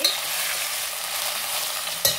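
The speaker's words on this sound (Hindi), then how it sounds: "थोड़ा चला लेंगे।" A ladle stirs Sindhi lauki and potato curry in a hot pan, giving a steady soft frying sizzle throughout with one brief louder scrape near the end.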